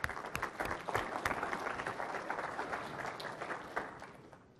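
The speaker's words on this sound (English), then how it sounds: "join me in a round of applause for yourself" A conference audience at a Microsoft event applauds: dense clapping from a large crowd, strongest at the start, then fading gradually toward the end.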